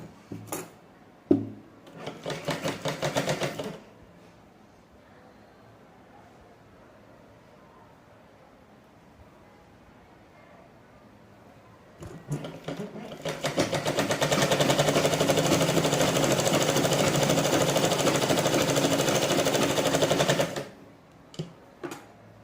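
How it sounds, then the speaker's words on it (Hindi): A sewing machine runs in two stretches while stitching the lining strip of a full blouse, first a short burst near the start, then a longer steady whirring run that stops abruptly, with quiet handling in between. "इसको ऐसे करके नीचे से स्टिचिंग करूँगी और ऊपर फोल्ड कर दूँगी।"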